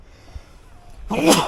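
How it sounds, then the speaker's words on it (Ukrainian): A single sharp sneeze bursts out loud and close near the end, after a second and a half of quiet room tone. "Ой, будь здоров"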